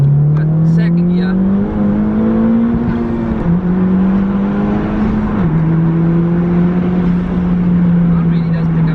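Modified Honda Civic Type R, a road-legal race car, pulls hard in second gear with a loud, rising engine drone that climbs steadily with brief dips at shifts, heard from inside the car under someone talking.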